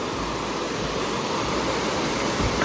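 River water flows steadily beside a farm field, a continuous broadband rush at a close, even level with no break across the whole stretch.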